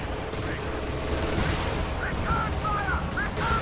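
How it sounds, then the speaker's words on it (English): MG42 machine gun fire in a World War II strategy video game, a dense steady clatter of battle noise running throughout with some higher chirping game sounds over it. "MG42 firing at a bunch of stuff"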